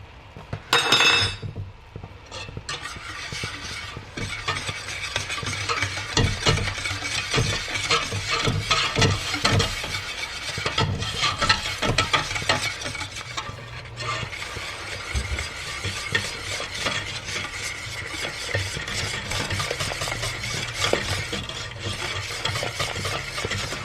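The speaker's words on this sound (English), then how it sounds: "we're gonna stir it constantly until smooth for about 4 or 5 minutes top" Cacao powder being stirred into a cheesecake mixture in a bowl: a constant run of scraping strokes and light clinks of the utensil against the bowl, close and fairly loud.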